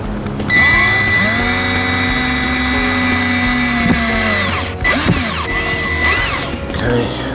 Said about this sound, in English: start drilling into the siding